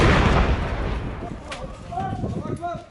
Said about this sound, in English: A mortar round lands just behind their building.